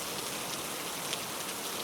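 Steady rain falls on a rainy-season evening, a continuous even hiss of drops on surfaces with no voices, close and moderately loud throughout.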